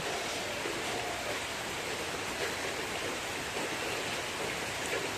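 Steady rain hisses evenly, a soft broadband wash with no breaks or voices, moderately faint and constant throughout.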